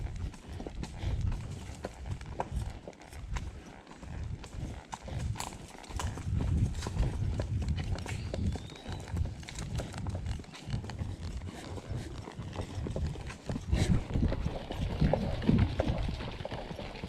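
Horse hooves clip-clop steadily on a summer trail ride, a continuous close rhythm of hoofbeats with soft outdoor rustle.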